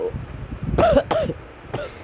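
A person coughs close by in three quick, rough bursts, the last one weaker, with quiet room noise in between.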